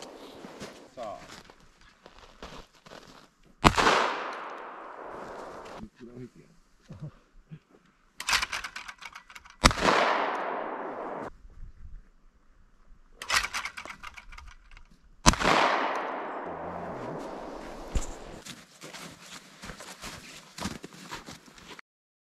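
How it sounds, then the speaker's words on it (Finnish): Shotgun shots fired at orange clay targets during a winter military and wilderness skills competition, three sharp loud blasts spaced several seconds apart, each trailing into a decaying echo outdoors, with quieter movement sounds between. "tuhoaa kaikki kohteen yläpuolella liikkuvat lentoalukset käyttämällä haulikkoa"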